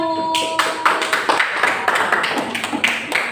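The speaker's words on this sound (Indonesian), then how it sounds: "tepuk tangan buat kelompok 1" Classroom pupils break into clapping for the first group, a run of close, crisp handclaps in a fairly steady rhythm following a brief spoken voice at the start.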